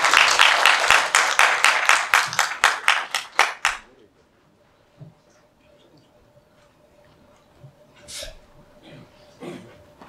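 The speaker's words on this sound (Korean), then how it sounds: "이병우 삼척시 보디빌딩 협회장님을 큰 박수로 무대 위로 모시겠습니다" Loud applause from the audience at a bodybuilding contest in Samcheok, welcoming the city bodybuilding association president onto the stage; dense clapping for about four seconds, then it cuts off into a quiet hall with faint stray sounds.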